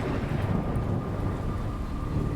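Thunder and rain in a Jenny LeClue video game scene: a steady low rumble blended with dense rain hiss, fairly quiet and continuous, with no talking.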